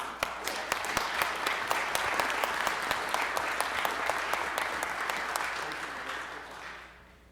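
Full room applause at a Livingston County Board meeting, dense sustained clapping with a few sharper individual claps standing out, holding steady and then fading toward the end.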